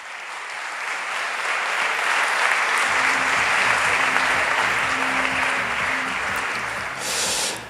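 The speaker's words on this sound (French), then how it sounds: "j'appelle, si vous voulez bien, sous vos applaudissements chaleureux, Kalina Raskin." Warm applause from a large audience at an afternoon conference session in Paris's Hôtel de Ville, welcoming a speaker to the stage; dense, steady clapping that holds for several seconds before tapering off at the end.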